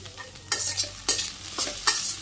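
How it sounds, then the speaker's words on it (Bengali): Freshly washed mola greens are fried in a pan, with a steady low sizzle broken by three distinct scraping stir strokes, close and clear, and no speech. "ভালো করে ভাজি করে নিই আমি শাক"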